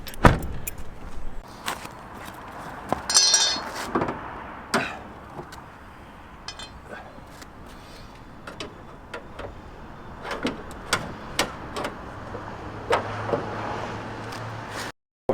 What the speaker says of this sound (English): So you're going to unlock the car, like so. Open up the bonnet